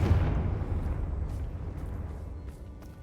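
A Confringo blasting spell going off in the wizarding game Hogwarts Legacy, a heavy, booming explosion at the start that decays into a long, rumbling roar which slowly fades, with no talking over it.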